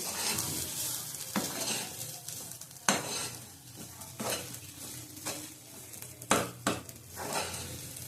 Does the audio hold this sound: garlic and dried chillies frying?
yes